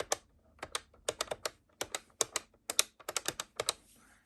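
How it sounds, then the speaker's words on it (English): Buttons on a 1992 British Telecom Tribune telephone in charcoal grey are pressed in a quick, uneven run of crisp, clunky clicks, about two dozen presses, heard close up and quiet with no voices. "The buttons have a nice sound to them as well."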